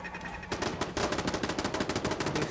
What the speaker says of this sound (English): They start shooting right away.